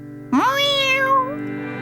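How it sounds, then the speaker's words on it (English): Jess, Postman Pat's cartoon cat, lets out a single drawn-out meow that rises and then falls over about a second, clear and close against a quiet background hum. "Meow! Meow! Meow!"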